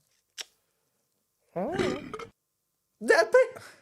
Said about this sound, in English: You can't burp into the mic.